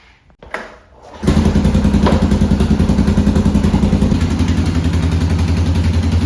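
A Suzuki Vinson 500 4x4 ATV engine catches after a brief cranking burst and settles into a steady, loud, close idle with an even pulsing throb on a cold January day in Alaska.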